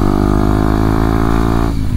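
A 2023 Kawasaki KLX 230SM motorcycle engine drones loud and steady while riding, holding an even buzzing tone before dropping off sharply near the end.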